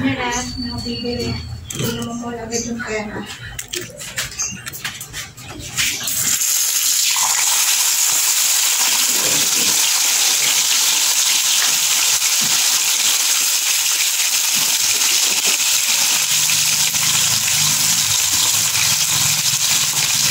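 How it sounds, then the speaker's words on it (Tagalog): Loud, steady sizzling and crackling of smoking-hot oil frying in a pan fills the clip, preceded by clattering and kitchen noises, with a voice speaking. "kumukulo na yung mantika"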